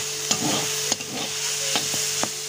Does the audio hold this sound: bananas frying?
yes